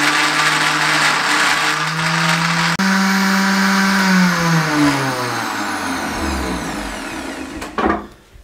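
Blender grinding a piña colada with ice cubes, a loud whirring motor whose pitch slides downward as the load changes, ending in a brief rattling burst.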